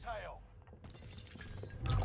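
Glass shatters with a sharp crash in a Fortnite-style shooter video game on Reinforced Island, amid busy game noise and low rumbles, with a heavy thud near the end.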